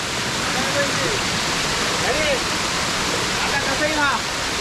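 A hidden waterfall at Zirad pours in a steady, dense rush of falling water that fills the whole stretch, with a few faint chirps rising above it.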